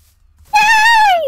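A Minecraft cat gives a single clear, loud meow of under a second that holds steady and then falls in pitch, heard alone after a quiet start.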